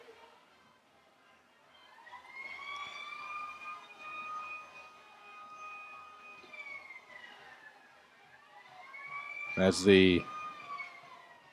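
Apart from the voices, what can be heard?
town sirens sounding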